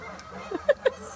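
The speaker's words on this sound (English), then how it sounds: "Wow, the ducks are really loud." Ducks call at a park near Red Top Mountain, giving three short, nasal honking quacks in quick succession, the last two loudest, over quiet outdoor background.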